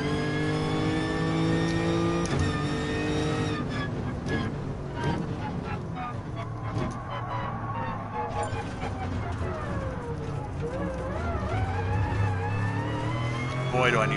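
Car engine in Gran Turismo Sport revving and accelerating through gears, steady loud whine rising and falling, with a voice talking over it at times.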